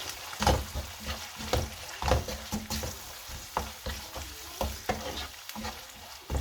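Spiced food is stirred in a sizzling pan, with repeated scraping strokes of the utensil in an uneven rhythm over a soft, constant frying hiss, close by and with no one speaking.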